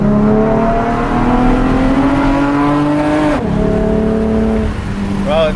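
Mitsubishi Eclipse GT fitted with RRE headers pulling hard on a test drive, loud engine note climbing steadily, a quick shift drop, then rising again, with a brief squeal near the end.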